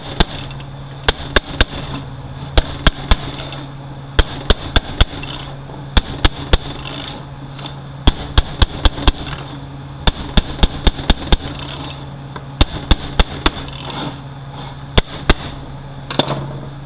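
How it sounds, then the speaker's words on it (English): Sharp metallic taps ring out irregularly as a screwdriver knocks a part into a 4R75W transmission during a rebuild, loud close strikes in quick clusters over a faint steady hum. "And I just knock it in with the screwdriver."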